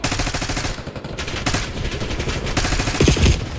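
Rapid bursts of automatic gunfire in the online shooter Call of Duty: Black Ops 6, loud and close, with brief pauses between volleys and a few heavier impacts near the end.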